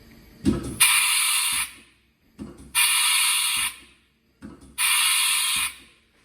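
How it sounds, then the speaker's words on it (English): A 1997 Haas VF3 CNC mill's manual tool release cycles three times: each starts with a clunk, followed by a loud pneumatic hiss lasting about a second, then another thunk. "So I'm going to just try see what the manual tool release is like, if it works."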